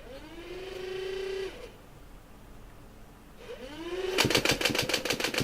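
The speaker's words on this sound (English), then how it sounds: "Sometimes it takes one or two trigger pulls before it shoots out that 18th dart" A motorized Nerf blaster prototype spins up its flywheel motors with a rising whine, pauses, spins up again, then fires Elite darts in a rapid, evenly spaced burst of close, sharp pops.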